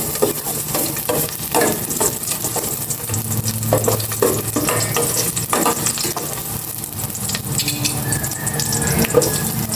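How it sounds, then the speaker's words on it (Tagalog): Garlic sizzles and crackles in a hot pan, a steady frying hiss broken by scraping stirs and light clinks of a utensil. "igisa ko na itong bawang"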